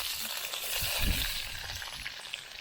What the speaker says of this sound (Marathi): तर आता तेल टाकलंय, आता कढीपत्ता टाकतोय आपण